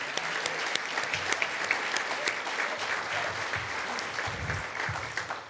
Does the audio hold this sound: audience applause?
yes